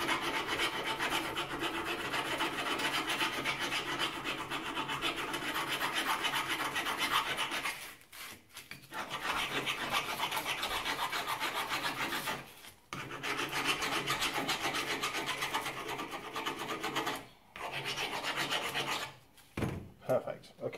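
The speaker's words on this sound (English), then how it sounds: "In fact, I think we'll even file it." A hand file rasping rust off the steel backing of a brake pad from a Honda CRM250 front caliper, close and steady in long back-and-forth strokes broken by short pauses, with no talking.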